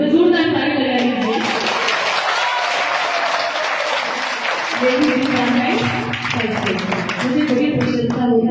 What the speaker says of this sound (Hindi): जोरदार ताली लगाइए।